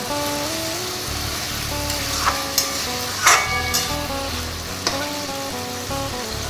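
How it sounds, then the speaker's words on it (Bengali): Taro leaves with a hilsa fish head stirred in a pan, with a steady loud sizzle and occasional spoon scrapes and knocks, heard close with no voices. "ভালো করে আমি এটা নাড়তে থাকবো।"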